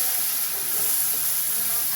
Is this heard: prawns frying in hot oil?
yes